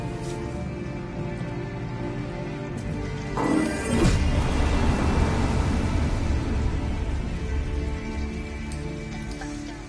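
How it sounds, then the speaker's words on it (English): Steady rain pours down in the video game Detroit: Become Human, growing heavier and denser partway through, with a broad hiss over a low rumble and no voices. "it's pouring rain"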